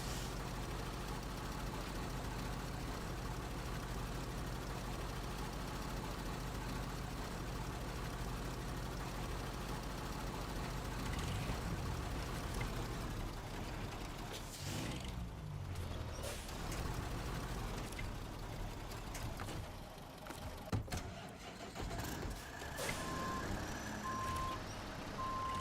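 A Kenworth truck idles with a low diesel rumble in the SnowRunner video game while reversing beeps repeat steadily, joined by clunks and a brief hiss of air brakes.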